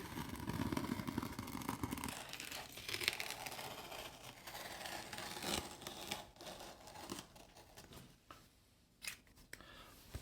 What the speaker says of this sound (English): I am going to carefully cut through some of this tape.